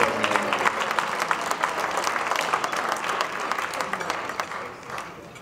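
A volleyball team in the audience at an alumni awards ceremony claps loudly and steadily, a dense crowd applause that tapers slightly toward the end, with a speaker's voice faintly underneath.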